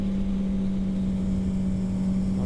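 A truck engine runs steadily in a higher gear on a mountain road, a constant loud low drone with a firm hum and no break.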